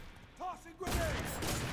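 Heavy gunfire in the shooter F.E.A.R. 3, a loud sustained burst of shooting that erupts abruptly after a short passage of voice and carries on to the end.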